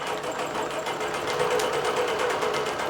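A computerized sewing machine quilting runs in a fast, even mechanical patter with a steady hum, close and continuous for a few seconds, no voices over it.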